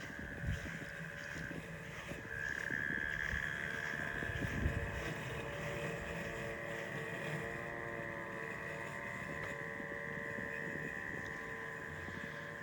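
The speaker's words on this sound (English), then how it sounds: "you can faintly hear the robot operating, but what you'll hear is like a scraping noise. That's it actually cutting" Robotic lawn mower cutting grass at night, a faint, steady motor whine with a low scraping cut underneath, distant and continuous.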